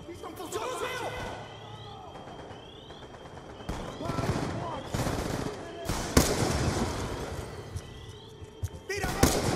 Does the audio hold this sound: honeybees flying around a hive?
no